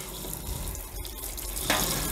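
Tap water runs steadily into a sink as 3D printer bed sheets are rinsed, a continuous close splashing hiss with a brief dip partway and a fuller surge near the end.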